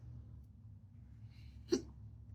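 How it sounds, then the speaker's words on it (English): A single hiccup from a person testing a cool wintergreen moist snuff, one short sharp catch standing out over a low steady background hum. "Hiccups."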